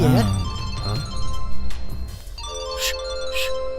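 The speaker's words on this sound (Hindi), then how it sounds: "रुक्कू का फोन है।" A melodic mobile ringtone plays over background voices, its steady electronic tones carrying clearly through the second half.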